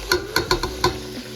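Chicken stirred while frying in oil, with several sharp, close scraping strokes in an uneven rhythm over a steady sizzle.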